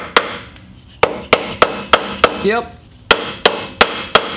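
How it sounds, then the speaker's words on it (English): A hammer strikes metal during repair work on a VW Thing Type 181, sounding as about a dozen sharp, loud, ringing blows in an uneven rhythm. A short spoken word and a brief squeak fall between the strikes. "Get the hammer!"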